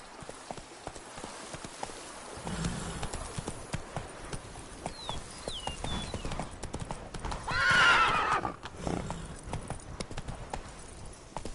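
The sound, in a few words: horse Roach galloping, hooves, from video game The Witcher 3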